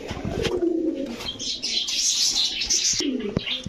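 Pigeons, including cream-eyed high-flyer breeds, coo close by in low, throaty bursts, with soft chirps and some rustling around them.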